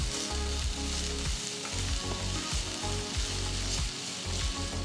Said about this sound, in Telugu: ఇప్పుడు ఒక ప్యాన్లో కొద్దిగా నూనె వేసి అందులో తరిగిన వెల్లుల్లి రబ్బలు తరిగిన అల్లం చిన్నగా తరిగిన రెండు పచ్చిమిరపకాయలు చిన్నగా తరిగిన ఒక ఉల్లిపాయ వేసి వేయించాలి